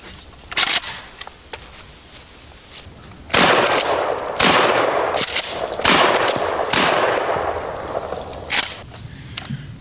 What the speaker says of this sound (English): So let's take this Mossberg, or in fact, how about a Maverick Bullpup, and let's start another shooting program.